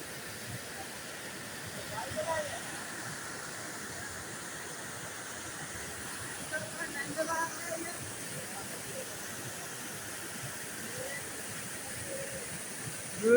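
Muddy floodwater rushes after rain in a steady, even roar, with faint voices talking intermittently in the background.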